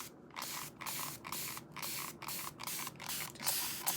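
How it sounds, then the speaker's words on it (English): Water misted from a small spray bottle onto a brand-new makeup powder puff, a string of short, crisp hissing bursts in steady rhythm, close and fairly quiet with no talk. "A little bit of water and I spray it."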